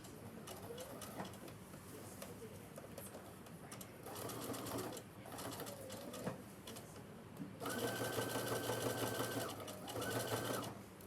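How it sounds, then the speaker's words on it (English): A sewing machine runs a zigzag stitch while hemming a pants fly, whirring loudly in two bursts with a steady rapid hum and pauses between runs. "I'm going to go ahead and do a zigzag stitch to make sure that I catch both of those"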